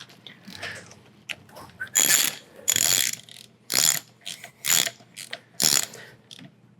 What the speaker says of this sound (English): we're gonna tighten our lower pinch bolts. That's your 8mm Allen